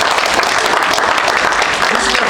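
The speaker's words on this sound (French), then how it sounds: "OK, on les applaudit." Wedding guests at a customary wedding in Villejuif applaud the couple, a loud, dense, steady wash of clapping and crowd noise filling the whole stretch without a break.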